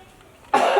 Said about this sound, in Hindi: बहुत ज़्यादा खांसी हो रहा था